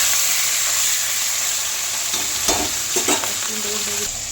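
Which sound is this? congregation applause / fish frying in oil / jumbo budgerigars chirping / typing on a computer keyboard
fish frying in oil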